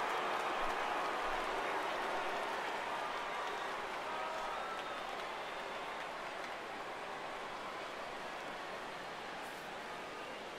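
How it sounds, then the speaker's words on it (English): Steady, dense crowd murmur filling a baseball stadium in MLB 15 The Show, Phillies at Nationals, after a grand slam, a continuous broadband wash holding level for about ten seconds with no voices standing out. "with the crowd still buzzing over the grand slam"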